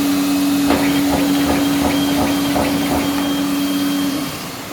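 A Bacciottini creaser folding machine runs with a steady hum and whine while a sheet passes through for a single crease, with a quick series of soft evenly spaced taps before the motor note drops away near the end.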